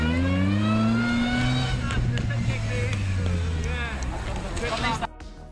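A car reversing on an unsynchronized reverse gear with straight-cut teeth gives off a loud, steady whine, a set of stacked tones sliding gradually down in pitch, with mechanical noise underneath before it cuts off abruptly.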